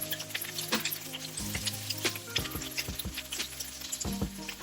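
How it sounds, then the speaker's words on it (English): Beef ribs searing in peanut oil in a hot wok, a loud continuous sizzle with clinks and scrapes of a utensil against the metal throughout. "To a hot wok, I add some peanut oil, and now we're going to sear the beef."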